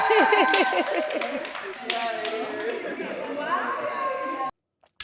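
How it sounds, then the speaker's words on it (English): Studio audience on a dating show claps and chatters for a newly matched couple, a steady crowd wash with laughter and voices over it, cutting off abruptly near the end. "Give them a round of applause."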